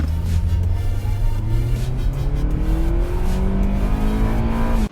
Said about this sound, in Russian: Итак, пишем разгон до 100.